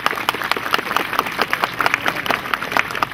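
Crowd applause at a centenary commemoration of the battles of Cosna and Ciresoaia in Pîrgărești, Romania: steady hand clapping from a gathered audience, with individual claps standing out, moderately loud and continuous throughout.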